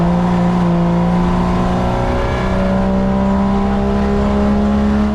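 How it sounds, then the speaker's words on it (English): A Holden HQ race car at speed on the Baskerville circuit, its engine holding a loud, steady, close drone with sustained harmonic tones throughout and no voices. "Once I got close to Bennett, I concentrated on carrying a bit more speed onto the straight to attempt to move into the final corner"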